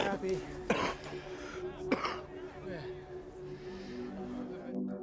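Two sharp, harsh coughs ring out about a second apart over a steady background drone and murmur, at a high-altitude mountain camp on Everest, in a film.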